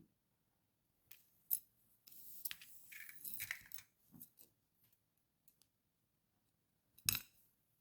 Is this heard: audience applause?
no